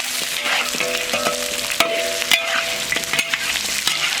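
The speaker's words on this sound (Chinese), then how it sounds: "我们给它炒一下，炒到这个黄黄的。" Pork ribs stir-fried in a wok with Sichuan peppercorns, ginger slices and scallion pieces, giving a steady close sizzle broken by repeated scraping and clanking of the spatula.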